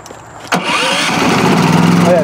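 A Westinghouse iGen4500 inverter generator's engine cranks once with a sharp pull and catches, then settles into a steady, loud, close running drone with a faint tonal whine above it.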